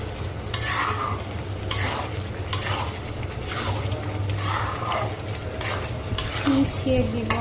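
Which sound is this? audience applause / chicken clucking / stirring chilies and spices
stirring chilies and spices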